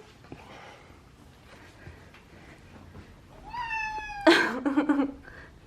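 A house cat gives a short rising meow followed by a louder, strained cry and a few snorting bursts, close and fairly loud over a quiet room.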